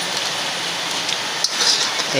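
Steady rain falls outdoors as a dense, even hiss close by, with a few sharper drops and faint rustles near the end.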